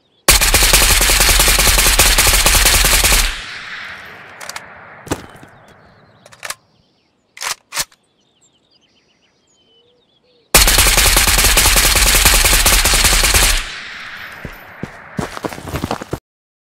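Automatic rifle fitted with a Combat Grip fires two long sustained bursts in the Ghost of Tabor game, loud and close, separated by a few clicks and handling noises and a brief quiet gap.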